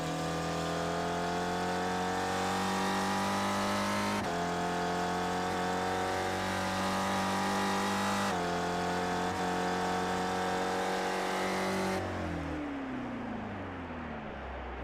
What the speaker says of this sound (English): You can hear him pull the clutch in here at the end of this straight